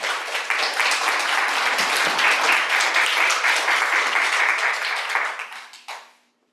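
A panel session audience breaks into sustained applause, a dense steady wash of many hands clapping for several seconds before tapering off quickly at the end.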